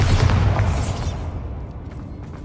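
Bombarda explosion spell cast in Hogwarts Legacy, a loud booming blast with heavy low rumble right at the start that decays and fades over about two seconds, with no talking.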